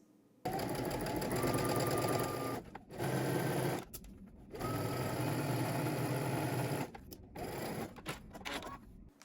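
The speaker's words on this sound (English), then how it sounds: "we're gonna stitch starting at the bottom, working our way up" A sewing machine stitches a sleeve seam, running close and steady in several long bursts with brief stops between them and no voices over it.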